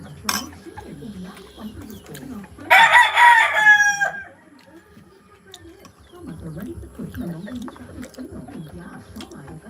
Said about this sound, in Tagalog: Iba mang manok na, mulukso na.